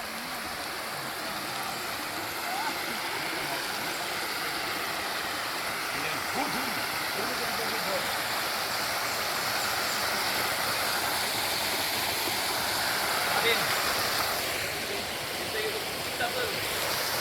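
Dennery waterfall and its stream pour in a steady, broadband rush of falling and flowing water, continuous and fairly close throughout.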